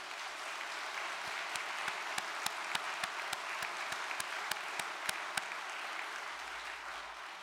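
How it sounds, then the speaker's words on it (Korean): A large audience at a church gathering applauds in a steady, dense wash of clapping, with some louder individual claps standing out. It holds at an even level throughout. "뜨거운 박수를 올려주시기 바랍니다"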